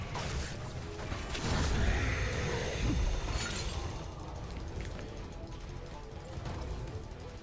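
An allied keep is destroyed in the Heroes of the Storm video game, a fairly quiet crumbling crash with shattering and creaking mechanical tones that swells in the first few seconds and then fades under game ambience.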